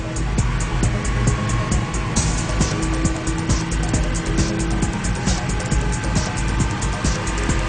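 A 520-horsepower Porsche driving at high speed on the German Autobahn gives a loud, steady roar of engine and road noise that holds throughout without letting up.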